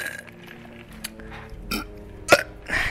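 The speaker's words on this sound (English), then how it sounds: "Excuse me, I fucking burped." A single loud burp from a man breaks into casual conversational audio, with a couple of smaller throaty bursts just before it, close to the microphone.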